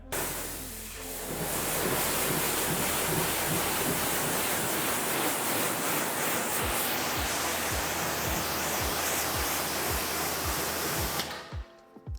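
Pressure washer spraying water upward across a car during spring cleaning, a loud, steady hiss that runs for about ten seconds before cutting off, with no voices.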